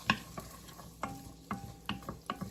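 Stirring softening vegetables in a pot for Tex-Mex chicken soup, a utensil scraping and knocking against the pot in a few separate strokes over a gentle sizzle, close and fairly quiet, with no talking.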